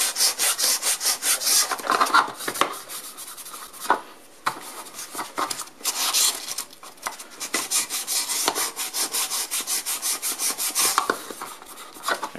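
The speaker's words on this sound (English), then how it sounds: "Sand that down." A sanding sponge rubs back and forth across a small cut-off piece of a model tank kit, giving steady rapid scratchy strokes, close and fairly loud, with brief pauses between bursts.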